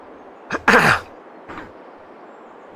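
A man in a home setting gives a few coughs and throat-clearing bursts: a sharp short one, a louder harsh cough, then a fainter cough about a second later, with quiet room noise between.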